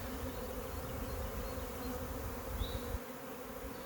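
A swarm of honeybees clustered low on a tree outdoors, a dense continuous buzzing drone, close and steady throughout.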